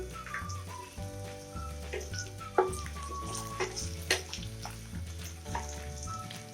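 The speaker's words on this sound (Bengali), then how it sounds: "এবার আমি এর মধ্যে কেটে রাখা আলুগুলো দিয়ে দিলাম" Chopped potatoes frying with lightly browned onions in a pan, giving a steady close sizzle with occasional stirring clatter.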